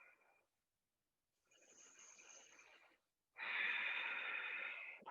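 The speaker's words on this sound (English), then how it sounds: "Take a big deep breath." Deep breathing during a gorilla pose in an advanced yoga class: a soft breath, a pause, a longer exhale, then a loud, strong breath close to the mic.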